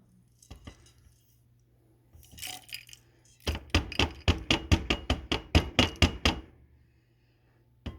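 Heated whole chai spice seeds poured into a grinder, starting with a few scattered light taps, a soft rustle, then a rapid run of about a dozen sharp, close rattling clicks before fading to quiet.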